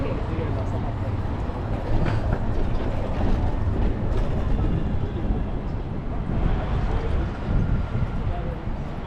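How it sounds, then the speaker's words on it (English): Ambience at a large combined train and bus station in Sweden, with a continuous loud rumble of transport and crowd noise and voices talking over it. "So here I am at the Sweden train station and bus station."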